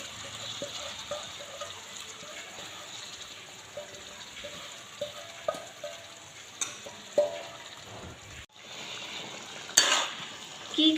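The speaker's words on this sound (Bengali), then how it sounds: "আপাতত গরম তেলের মধ্যে সব মাংস ছেড়ে" Country chicken meat sizzles and fries in hot oil, with a steady crackling hiss and occasional stirring clatter and pops, close and fairly loud with no talking.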